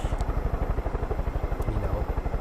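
A helicopter in the video game Far Cry 5 gives a steady, rapid rotor thump with a low throbbing drone, loud and close throughout, with no talk over it.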